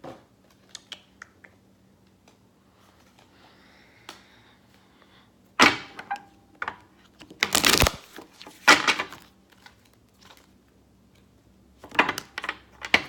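Large tarot cards shuffled by hand: scattered soft taps and slides at first, then several loud, close riffling bursts, with a final flurry near the end, no talk over them.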